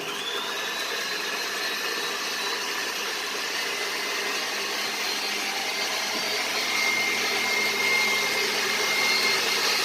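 An electric mixer beats egg yolks on high speed, whirring continuously, a loud steady motor drone with faint shifts in pitch and no voices.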